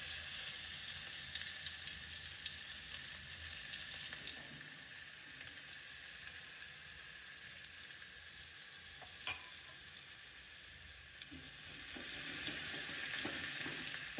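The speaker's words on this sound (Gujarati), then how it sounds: "મિત્રો લસણ અને મરી જીરુંનો વઘાર કરીએ" Garlic, black pepper and cumin fry in hot oil for a village-style drumstick curry, a steady broadband sizzle with faint stirring and a couple of small clicks, holding fairly even and swelling slightly toward the end.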